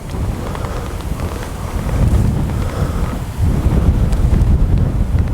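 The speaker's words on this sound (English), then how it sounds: "Wind's a little bit blowy." Blustery wind beside a lake, Lough Muckno, buffeting the microphone in a strong, continuous roar that swells louder after the midpoint, with no voices.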